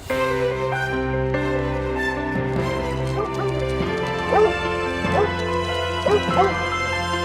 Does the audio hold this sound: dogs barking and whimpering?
yes